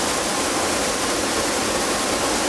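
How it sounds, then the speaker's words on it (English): The largest waterfall in Hungary, about 20 meters high, pours as a steady, loud, broadband roar with no pauses, heard up close and alone. "So this is apparently the largest waterfall in Hungary"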